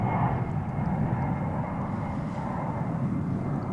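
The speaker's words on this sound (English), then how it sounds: "That was American Flight 1123, headed to San Diego in Airbus A321." An American Airlines Airbus A321 at DFW airport gives off a steady, broad jet roar that holds at an even, moderate loudness with no breaks and no voices.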